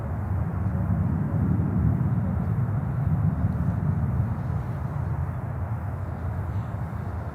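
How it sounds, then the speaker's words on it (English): Falcon 50 business jet landing at Charlotte airport, a steady low-pitched roar of engine noise that stays loud and even throughout, with no break or clear approach or fade. "I think there is a BizJet coming in. Ooh, a Falcon. A Falcon 50 from Philadelphia."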